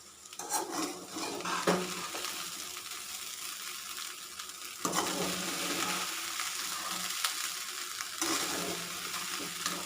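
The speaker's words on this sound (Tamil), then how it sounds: "சேர்த்துட்டு நல்லா கலந்து விட்டுருங்க" Cooked rice is stirred into egg fried rice in a pan, with a soft sizzle under repeated scraping and clattering of a spatula against the metal, the sizzle swelling louder midway.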